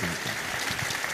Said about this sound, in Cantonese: 大家可唔可以都係俾啲掌聲？